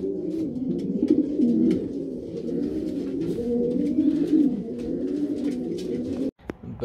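Racing pigeons coo steadily in a basket, a low, continuous murmur of overlapping calls, close by, with a brief rustle near the end.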